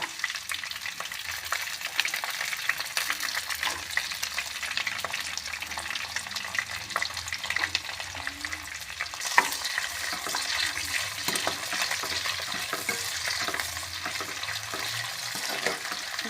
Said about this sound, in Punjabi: ਕੱਟਿਆ ਹੋਇਆ ਪਿਆਜ਼ ਪਾ ਰਹੇ ਹਾਂ